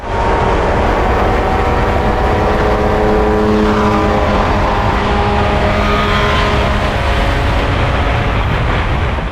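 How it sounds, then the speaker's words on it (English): Cheap budget race cars lapping a circuit at about 120 miles an hour during a 24-hour endurance race, a loud continuous engine roar with a rising and falling pass, heard from inside the car with no talk. "he passes these cars at 120 miles an hour like it's nothing"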